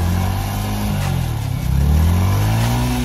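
A motorcycle engine revs hard as the bike slips on black ice on a snowy road, giving a loud, close, continuous drone that swells in pitch toward the end.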